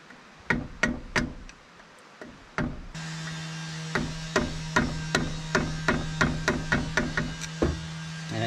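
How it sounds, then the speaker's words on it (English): A hammer taps a brake locking tab on a 1987 Toyota 4Runner, with a couple of sharp metallic strikes followed by a steady series of rhythmic taps over a constant electric hum. "you're gonna have to get it up here and tap it with something like a hammer"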